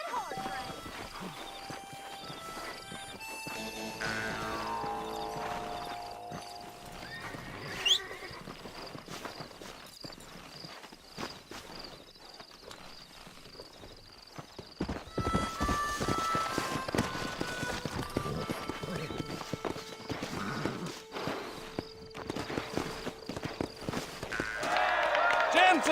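Galloping horses thunder through a race in the Western game Red Dead Redemption, hoofbeats pounding steadily amid music and crowd noise, with a voice speaking early on before the pace picks up and grows louder.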